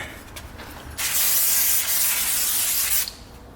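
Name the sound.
spraying cleaner on Jaguar XJ brake rotor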